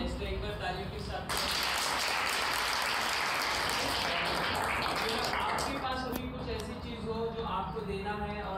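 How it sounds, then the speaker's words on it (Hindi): A group bursts into clapping for several seconds, then it fades as voices continue talking. "तालियों के साथ"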